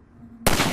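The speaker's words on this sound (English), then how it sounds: "Let me shoot out the latch." A single loud, sharp rifle shot fired at a ladder latch in the Half-Life 2 Episode One video game, bursting abruptly after a quiet, low-humming lead-in and ringing out briefly.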